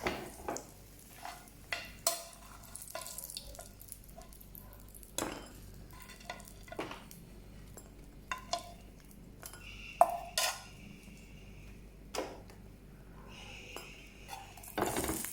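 Cooked rice being scraped and spooned from a pan into another vessel, with repeated metallic clanks and scrapes of a spoon against cookware, close and alone, in irregular bursts with quiet gaps.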